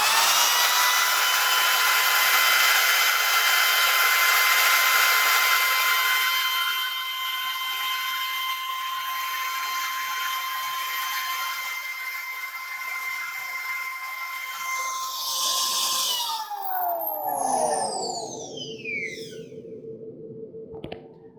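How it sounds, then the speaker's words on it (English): A DeWalt corded drill runs off a portable power station, a steady high motor whine held for many seconds, then it is switched off and spins down with a falling pitch, close and loud. "we'll plug in our DeWalt corded drill and see what happens."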